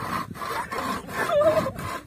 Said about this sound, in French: Bon voilà, ça coupe du bois.